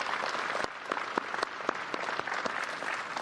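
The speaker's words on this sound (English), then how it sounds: "please join me in a special round of applause for our special guests" A commencement audience applauds loudly and continuously, individual sharp claps popping out of the sustained roar of hands.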